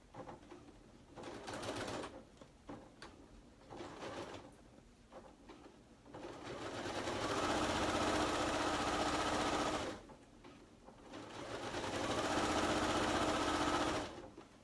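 A sewing machine stitches a slouch bag, first in short stop-start runs with clicks and handling noises, then in two long, steady, close whirring passes.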